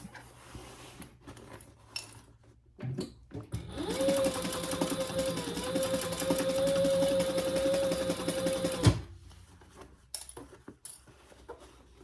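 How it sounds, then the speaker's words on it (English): Sewing machine stitching across the bottom seam of a fabric pouch, a steady mechanical whir lasting about five seconds, preceded and followed by quieter handling sounds. "We're not going to sew this side, just this bottom part."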